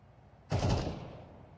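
Gunfire in a Counter-Strike esports match from the ESL Challenger League: a single loud, sharp burst that rings out briefly and fades, followed by quiet.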